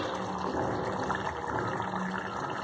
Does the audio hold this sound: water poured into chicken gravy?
yes